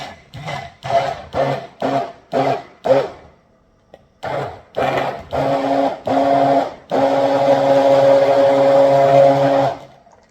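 Mixer pulsing a banana and shea butter mixture, heard as about a dozen short loud whirring bursts that lengthen into one sustained high-pitched run lasting several seconds, close up with no talk.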